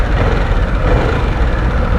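A 2024 Harley-Davidson Sportster S motorcycle engine runs at idle, a loud, close, steady low rumble with a smooth, even pulse and no talk over it.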